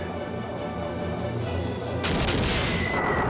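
A torpedo fires and strikes its target in the video game Skies of Arcadia Legends, a loud rumbling blast followed by a heavier explosive impact, with no talk over it.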